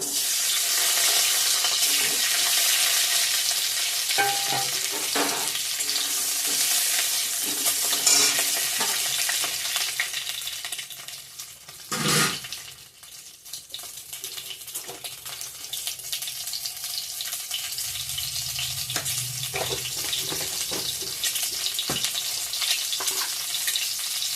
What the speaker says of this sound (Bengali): ভেজে নিব এখন